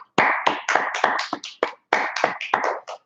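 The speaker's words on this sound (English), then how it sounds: "I just want to clap it up" Hands clap sharply about a dozen times in an uneven rhythm, each crisp smack close and loud with short gaps between, a cheer-up clapping at a Brotherhood class in Minneapolis.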